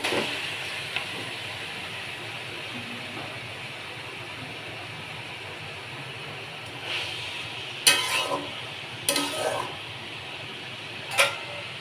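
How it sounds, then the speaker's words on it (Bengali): Red amaranth leaves (lal shak) go into a hot frying pan for a fried dish, giving a steady hiss and sizzle with a few sharper bursts of crackling near the end and no talk. "এবার লাল শাকটা দিয়ে দেব।"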